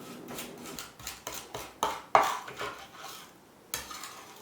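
Garlic cloves crushed with salt on a cutting board, heard as a series of rhythmic scraping and pressing strokes from a blade about every half second. The strokes are close and moderately loud, with a brief pause near the end.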